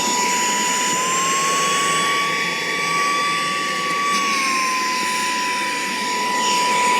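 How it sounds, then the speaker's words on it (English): Loud, steady whine of a vacuum cleaner sucking up beetles close by, with a high tonal hum that shifts slightly in pitch. "Sorry about the vacuum noise, but I'm going to suck these things up."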